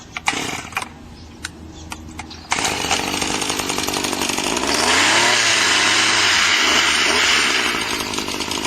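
A Redmax submersible underwater cutter slicing cattails in a golf course pond: a few sharp clicks, then the motor starts and runs as a loud, steady, buzzing whine, close by and with no talking.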